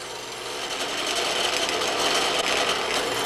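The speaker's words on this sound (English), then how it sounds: "Now we'll put it back in here and drill the second hole." A continuous high-pitched grinding whine of a drill biting into sheet metal, steady and close, growing slightly louder; no speech.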